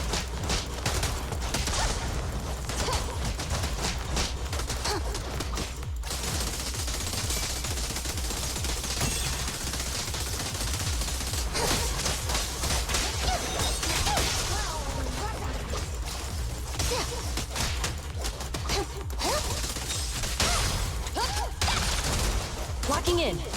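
Sustained gunfire in a video game, dense rapid bursts of shots and impacts layered continuously with game effects, loud and busy throughout, with talking mixed in.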